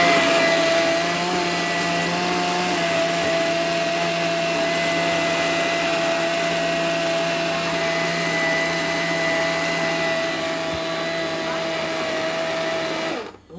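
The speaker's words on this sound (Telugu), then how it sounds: "మెత్తగా మిక్సీ కట్టేద్దాం ఇప్పుడు" A mixer grinder whirs loudly and steadily with a constant motor whine, grinding a fine paste with too little water, running close for the whole stretch before cutting off at the end.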